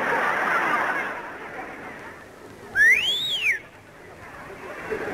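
A boy in the audience at a Soviet clown show whistles a short, shrill rising-and-falling tune. It stands out clearly over a low hall murmur, with faint voices around it.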